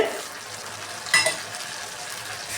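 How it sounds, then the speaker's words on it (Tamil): Rice stir-fried in a pan with ginger garlic paste and tomato for mushroom egg fried rice, a low steady sizzle with one sharp scraping stir of the spoon midway, close by and without speech. "நல்லா வதக்கி விட்டுக்கலாம். சோறை வதக்கிக்கணும்."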